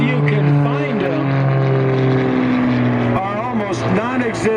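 A vintage 160-horsepower airplane engine droning at a World War II weekend air show, a loud, steady engine drone that shifts in pitch as the plane passes, with faint crowd noise beneath.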